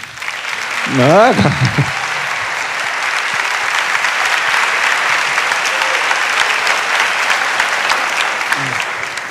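An audience applauds steadily for several seconds as a sustained wash of clapping, with a brief voice spoken over the start.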